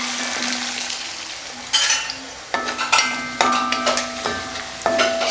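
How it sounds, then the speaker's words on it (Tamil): Sliced onions for tomato kurma sautéing in a pan, a steady soft sizzle broken by several scraping stirs and light clinks of a spoon against the pan. "சேர்த்துட்டு இது லைட்டாக சாஃப்ட் ஆகிறது வரைக்கும் வதக்கிக்கலாம்."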